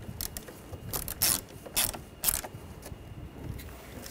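A hand ratchet tightens bolts on a 2013-2019 Ford Escape during a camshaft position sensor replacement, giving several short bursts of quick metallic clicking close by, with brief pauses between strokes and no talking.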